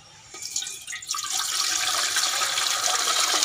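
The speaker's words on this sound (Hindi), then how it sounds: "बर्तन में पानी डाल दें" Water poured into a cooking pot while making amla and green chili pickle: a faint start, then a steady, loud rushing splash that builds after about a second and holds, with no talking.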